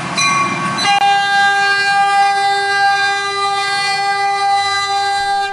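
A train rolls loud and close along a rail corridor, opening with a brief blast of its horn before settling into a sustained steady roar with strong ringing tones over the whole span.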